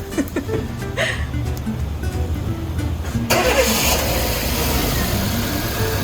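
A Chevrolet Spark with a freshly replaced battery starts up, with a short crank giving way to a steady close idle, and low talk and handling noises heard before the engine catches.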